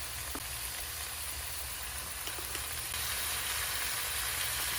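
Potatoes and pointed gourd fry in a pan with ginger, garlic and onion pastes plus cumin, chili and turmeric powders, making a steady soft sizzle and hiss over a low background hum.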